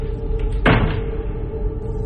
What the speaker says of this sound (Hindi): दरवाजा एक बार फिर बंद किया